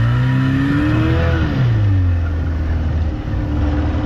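A boat with a rebuilt outboard motor runs steadily under way, a loud, close engine drone that shifts pitch as the throttle rises and falls.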